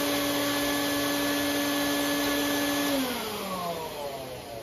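An air hockey table's blower runs as a steady, loud mechanical whir with a constant hum, like a vacuum pushing air out through small holes, then winds down in pitch near the end as it switches off.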